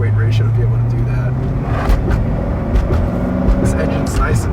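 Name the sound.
2007 Chevrolet Corvette Z06 C6 engine running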